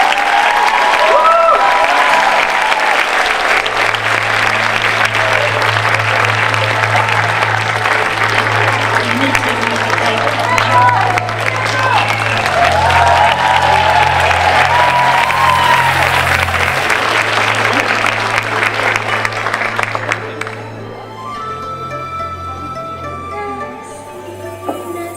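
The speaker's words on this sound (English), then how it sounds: "Please give her a warm applause." An audience at a school's tenth anniversary celebration gives loud sustained applause for a speaker, with steady music playing underneath, before the clapping thins out and fades near the end.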